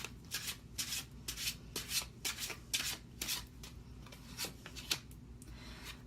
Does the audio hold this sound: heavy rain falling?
no